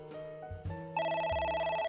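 A telephone rings in the video game AI: The Somnium Files, a bright rapid electronic ringing burst entering after a brief lower tonal passage, loud and close with no talking.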